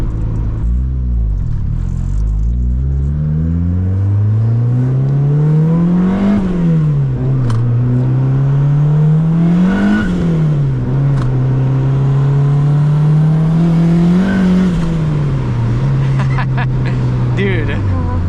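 A turbocharged built car engine on a budget turbo kit accelerates hard through several gears, its loud droning pitch climbing and dropping at each shift, close and sustained.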